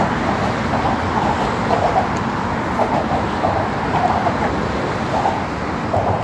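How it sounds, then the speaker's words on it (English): Heavy car traffic rolls across the Brooklyn Bridge in New York, a loud, continuous roar of engines and tires with a breezy wash and no break in the flow. "You can't really hear me because the cars."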